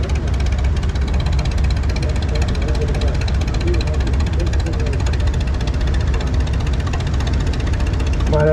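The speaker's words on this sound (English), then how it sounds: "Now we got this Model A Alice Chalmers coming through the line here." An Allis Chalmers Model A tractor, built on a U rear end with a big motor up front, running in a tractor parade, a loud continuous rumbling engine drone with a knocking pulse and voices under it.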